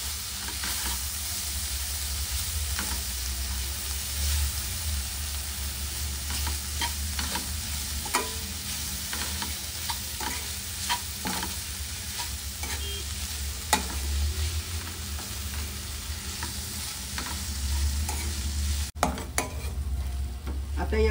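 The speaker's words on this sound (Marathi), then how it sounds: "आणि भाजी चांगली परतून घेऊया आता।" Cluster beans with garlic and salt stir-fried in a pan, a steady close sizzle with repeated scrapes and clinks of a spatula stirring through the vegetables, continuous over the whole stretch with no voices.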